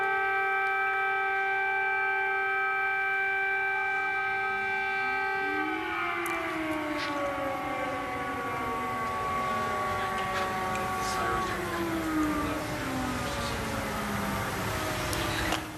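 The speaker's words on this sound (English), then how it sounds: "those are the sirens we had been listening for" Air raid sirens sound over a city in Ukraine: steady wailing tones that slide downward and overlap as several sirens fall and rise, continuous and loud throughout.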